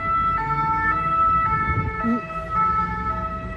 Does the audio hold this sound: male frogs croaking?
no